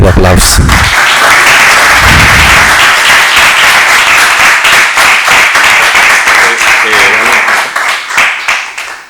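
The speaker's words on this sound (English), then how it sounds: "Give applause." Audience applause after a talk at a medical echocardiography case-discussion session, a dense run of clapping lasting several seconds and tapering off near the end, with some voices mixed in.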